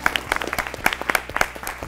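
A quiz-competition audience in a hall claps in a short, steady burst of applause at moderate volume, with no voices over it.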